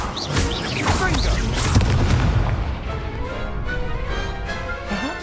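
A Confringo blasting spell going off in the Hogwarts Legacy video game, a loud booming blast with a rumbling tail and scattered crackling that fades over several seconds.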